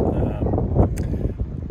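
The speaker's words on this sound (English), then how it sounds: "this wind is so nice" Steady outdoor wind at a campsite on the Superior Hiking Trail rumbles and buffets the microphone throughout, with faint voices mixed in beneath the low gusting noise.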